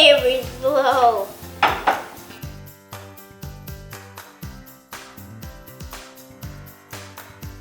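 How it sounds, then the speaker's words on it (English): A spoon or whisk clinks and scrapes against a bowl in slow, repeated strokes while petit beurre chocolate batter is mixed. Each knock is close and distinct, over a steady tonal background. "Now you mix very slowly. Very, very slow."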